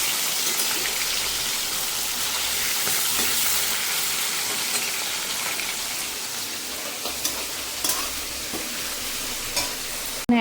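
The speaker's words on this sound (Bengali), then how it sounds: "এক কড়াই মাংস কষা হচ্ছে এখন" A wok full of meat with onions and green chillies sizzles steadily as it is stir-fried at home, a dense crackling hiss with scraping stirs toward the end.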